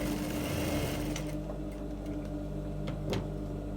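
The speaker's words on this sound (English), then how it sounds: "That's why you need to sew it down so that it will not be removing" A sewing machine stitches wadding onto a bustier in a close, fast mechanical whir that stops after about a second, followed by a few light ticks and clicks over a low steady hum.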